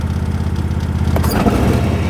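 A Husqvarna TS242 ride-on mower runs with its cutting blades turning, a steady pulsing engine idle that rises into a louder, fuller roar partway through, close and with no talking.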